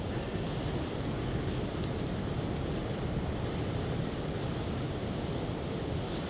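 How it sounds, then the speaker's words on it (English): Strong wind buffets the microphone in a steady, roaring rush, blending with the broad wash of surf at the seaside in Mablethorpe in February; no voices. "I'm hoping it's picking up how windy it is on camera"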